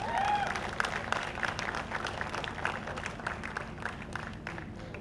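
An audience applauds warmly at the launch event for the TV show Devon Ke Dev Mahadev. The clapping is dense and continuous and stays loud throughout, with crowd murmur underneath.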